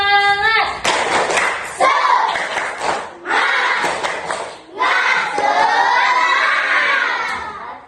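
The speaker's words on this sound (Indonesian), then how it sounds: "Ayo tepuk semangat lagi ya." A group of children perform a rhythmic spirit clap chant in a classroom, loud, sharp bursts of clapping with shouted voices, several short rounds separated by brief pauses, then a longer cheering stretch.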